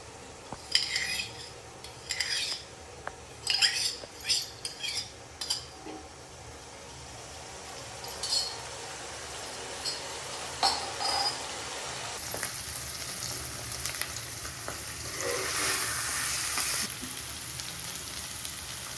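Noodles and egg stirred and fried in a pan, a utensil clattering against the metal in quick bursts early on, then a steady soft sizzle that rises louder near the end.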